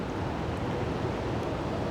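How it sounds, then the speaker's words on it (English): Rippling water in a broad, steady rushing wash with a soft, even texture that carries on without break, close and moderately loud. "The rippling of the water"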